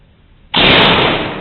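A single loud, sharp discharge from a Nova Vista Cobra PCP air pistol fired at targets breaks a quiet moment, then a brief hissing tail fades under it.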